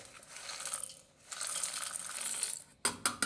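An electric grinder pulses nuts into powder in short bursts, a whirring grind that stops briefly and restarts, then a few sharp clattering knocks at the end; fairly quiet overall.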